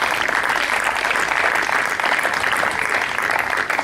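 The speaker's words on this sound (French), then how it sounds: "Les filles, on vous applaudit très fort." An audience at a prize-giving ceremony for an international open tournament in Aix-en-Provence applauds steadily and loudly for several seconds, a dense, even wash of clapping with no break.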